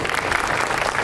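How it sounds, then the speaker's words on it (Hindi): An audience at a public gathering in Tongpal, Sukma district, claps loudly and steadily, a dense, close burst of applause with no voices over it. "इसके लिए लखमा जी के लिए जोरदार ताली बजाएं"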